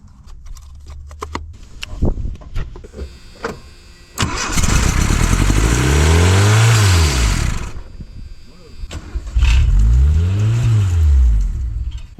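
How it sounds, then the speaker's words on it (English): A $400 Dodge Charger with a 2.2 engine cranks several times, then catches and revs high, dropping back before a second loud rev, heard close with some talk early on. "When it started, it just immediately revved up to 4 grand."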